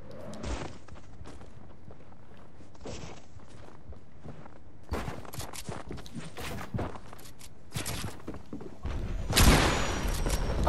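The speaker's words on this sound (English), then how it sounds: "No, he shot me in midair." Gunfire in the video game Fortnite: scattered sharp shots and short bursts mixed with footsteps and quick rustles, moderately loud, and the loudest burst comes near the end, with no talk.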